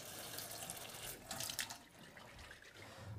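Water runs and splashes as Protein Powerhouse sprouts are rinsed in a sprouting jar, a soft, steady trickle with a brief louder gush in the middle, heard alone and fairly faint.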